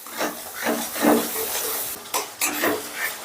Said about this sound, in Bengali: মশলাটা যতক্ষণ তেল না ছেড়ে দিচ্ছে ততক্ষণ কষতে থাকবো।